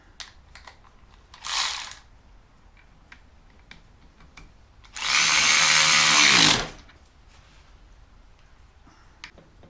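A power tool drives a 13 mm fastener while a winch is fitted to a Jeep Wrangler JL: a short buzzing burst, then a longer loud run of about a second and a half, with light clicks and handling noises between.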